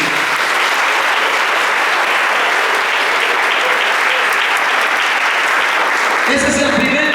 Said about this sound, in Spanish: Si se lo va a dar, dáselo fuerte a Jesús